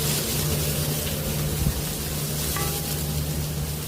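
Garlic and onion sizzle steadily in a hot pan for mung bean sprout stir-fry, a close, dense frying hiss with faint scraping of stirring and no voices.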